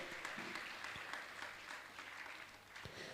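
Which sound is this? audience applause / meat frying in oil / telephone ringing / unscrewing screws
audience applause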